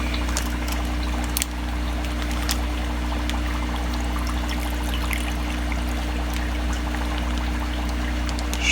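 Steady water pouring and splashing continuously at close range into a fish net while rescuing betta fish, a constant trickling rush with no talking.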